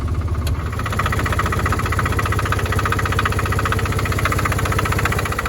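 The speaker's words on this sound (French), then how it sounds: "Donc voilà le petit moteur Fox, j'espère que vous m'entendez bien" The small Fox engine of a Lyra microcar idles close by with a steady, rapid chugging pulse, loud and continuous throughout, with a slight knocking edge.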